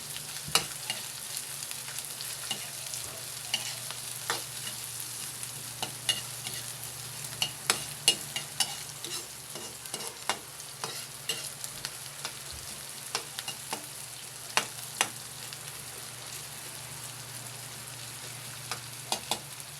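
Onions frying in a pan for squid adobo, a steady low sizzle broken by frequent sharp clicks and scrapes of stirring, close by with no talking.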